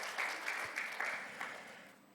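A church congregation at a Sunday service applauds, a soft, steady wash of clapping heard from some distance with a few louder swells, fading slightly toward the end.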